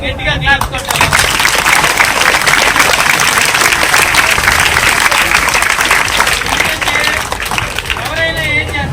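A crowd of schoolchildren claps and cheers loudly and steadily for the fun park manager at a water park, the applause continuous and dense with voices mixed in.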